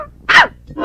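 A dog gives a single short, sharp bark at close range, with no talk over it.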